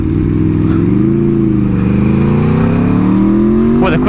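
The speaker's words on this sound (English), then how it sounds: "they power wheelie, front wheel pops up, and they just shift through the gears" Aprilia Tuono motorcycle engine revving hard through the gears during a power wheelie, a loud close steady roar that rises in pitch, dips briefly at a shift and climbs again.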